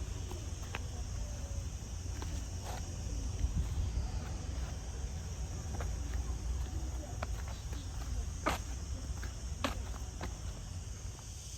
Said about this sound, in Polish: słychać cykady.